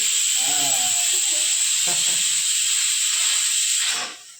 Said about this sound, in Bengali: একটা সিটি বেজে গেছে